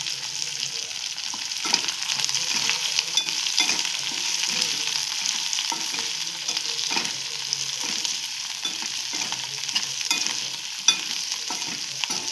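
Paneer and capsicum being stirred as they fry in a pan for chilli paneer, a continuous bright sizzle with repeated scraping strokes of a spoon, close and steady, with no talking.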